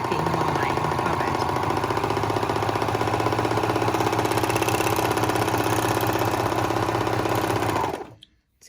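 A serger stitches a flatlock narrow edge on a fabric carrot bag, running in a fast, even mechanical chatter for several seconds before stopping abruptly, with no talking.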